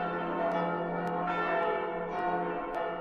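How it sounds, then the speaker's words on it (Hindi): A large bell in the anime Attack on Titan rings loud and resonant, with sharp strikes roughly every half second over a sustained, ringing hum. "और उसी वक्त वहां पर एक बड़ा सा घंटा बजने लगता है"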